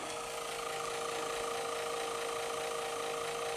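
A steady electronic impulse engine hum from a 66-inch model starship Enterprise drones on at an even pitch, unchanging and fairly quiet, with no voices.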